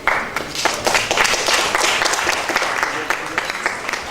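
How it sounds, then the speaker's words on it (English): Conference audience applauds a guest, dense clapping held steady at moderate loudness for several seconds, with voices mixed into the crowd noise. "big applause to Mr. Joseph Riano"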